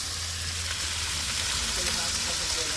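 Pumpkin pieces frying in hot oil give off a steady, close, even sizzle that continues unbroken throughout, with a voice talking faintly over it.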